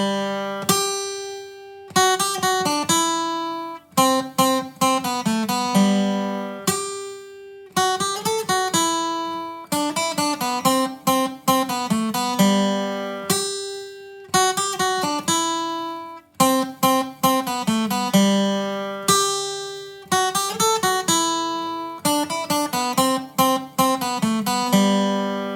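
Solo guitar plays The Office theme melody in open position across multiple strings, a steady, bright run of plucked notes in repeated phrases with brief pauses, close and alone for the whole stretch.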